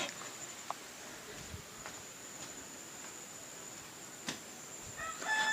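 Chickens roaming a Konkan village cluck and call intermittently in the distance over a steady outdoor evening hiss, with a few sharper bursts near the end.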